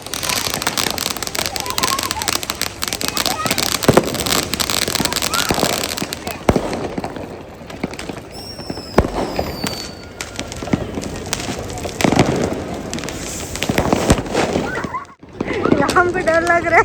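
Diwali fireworks and firecrackers burst in Dubai, a dense, loud stream of crackling bangs and pops with occasional rising whistles, while people talk and call out nearby throughout.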